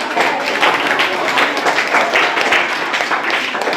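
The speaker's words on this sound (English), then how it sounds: "Give her a clap, everyone." Classroom applause for a student during a Grade VIII mathematics activity, a group of pupils clapping steadily and fairly loudly for several seconds without speech.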